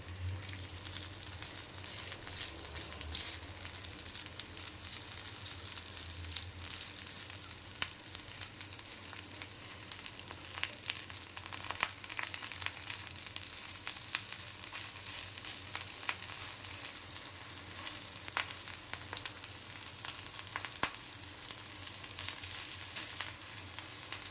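Thankuni (Asiatic pennywort) leaf fritters frying in oil, giving a continuous close, even sizzle with scattered sharp pops and crackles throughout and no talk.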